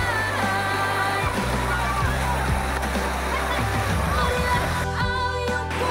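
Strong, rushing water pours steadily at Dalitiwan Falls in Majayjay, Laguna. A loud, constant roar sits under music with a singing voice.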